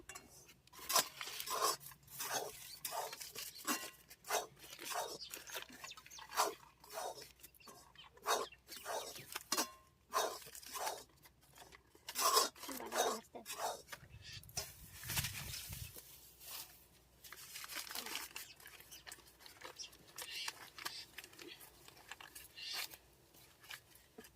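Rice flour dry-roasting in a pan for Bengali burnt pitha, stirred with a utensil, giving a steady run of close scraping and rasping strokes in an irregular rhythm, with no talk.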